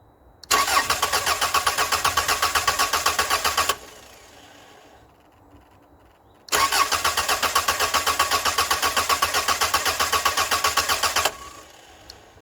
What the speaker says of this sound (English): we're just going to crank the engine. We want to get the oil circulating again without the car actually starting.